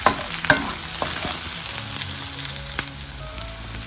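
Small shallots and dried chillies sizzle and fry in a pan, a close, steady crackle broken by a few sharp pops and stirring scrapes, with no talking.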